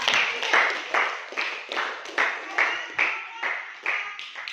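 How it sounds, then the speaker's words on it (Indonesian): Rhythmic applause from a small classroom group after a presentation, about eight to ten evenly spaced bursts of claps, fairly close and steady throughout. "Oke, berikan aplaus untuk kelompok."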